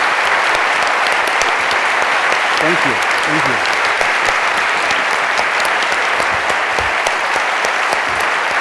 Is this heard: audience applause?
yes